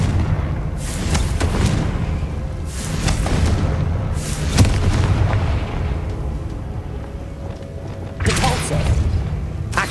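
Confringo fire-blast spell being cast in the Hogwarts Legacy video game, heard as several deep booming blasts spread across the clip over a continuous rumbling game soundscape.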